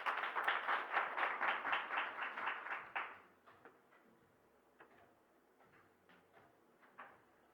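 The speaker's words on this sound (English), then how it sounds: "Please give her a round of applause." Applause from a room of attendees at a report launch on safeguarding female journalists, a burst of fairly loud rhythmic clapping for about three seconds, then fading to a few scattered, quieter claps.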